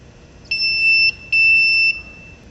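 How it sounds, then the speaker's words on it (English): Two loud electronic beeps from a small marine battery tester on connection, the first about half a second long and the second slightly longer, each a steady high-pitched tone. "As I hook up black, you're going to hear it beep."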